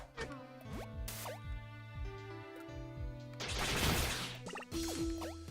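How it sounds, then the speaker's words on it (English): Water flows and drips in the side-scrolling video game Iconoclasts, with plopping droplets over a steady game music bed and a louder rushing burst of water midway through. "As I free up a water route above me."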